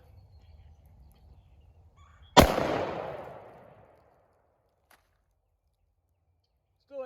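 A single loud gunshot strikes an Italian army surplus body armor plate, with a sharp crack and a ringing decay lasting over a second. Near silence and a faint click follow.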